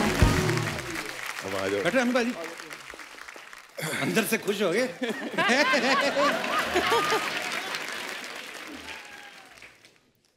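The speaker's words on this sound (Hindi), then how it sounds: "शरद भाई और एमी पाजी के लिए जोरदार तालियां" A studio audience at a Hindi comedy show claps loudly to welcome two guests onto the stage, sustained applause with laughter and cheering while the host talks over it, fading out near the end.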